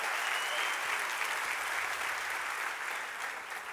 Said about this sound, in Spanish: Vamos, un aplauso para el Señor por eso.